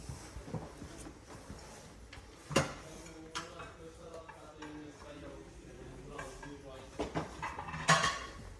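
Dishes, pots and cutlery are handled and set out for display at a New Year giveaway. The clinks and knocks are faint and scattered, a few sharper clatters stand out, and there is low background noise.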